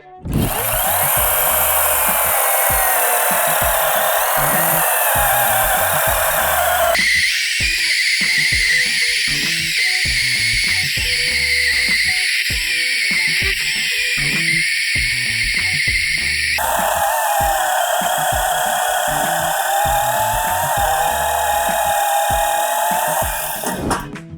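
Procraft cordless chainsaw cutting firewood, a loud continuous electric whine that shifts pitch as the chain bites and frees, with crackling chips throughout and no voices.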